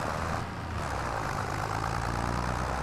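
A tractor engine in the Farming Simulator 25 video game runs at a steady low drone, loud and continuous with no talking over it.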